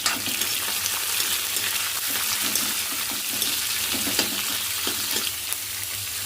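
Four large tomatoes, sliced lengthwise, fry in oil in a pan for chutney, giving a steady, close, loud sizzle that continues without pause and with no talking.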